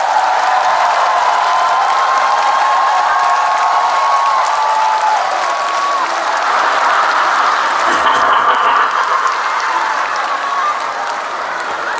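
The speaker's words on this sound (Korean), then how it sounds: "다음 기회에 또 많은 분들 찬성과 박수 부탁드리겠습니다" Broad, sustained concert applause from a large audience at a Busan concert fills the scene, loud and dense, with a faint whistle-like tone early on and no talk.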